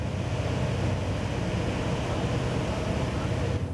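Steady engine rumble and rushing water and wind noise from a Cranchi M38 HT motor yacht cruising at 18 knots and 2400 rpm, continuous and fairly loud throughout.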